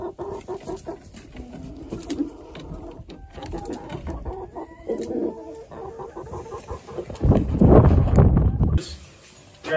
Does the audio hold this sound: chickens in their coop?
yes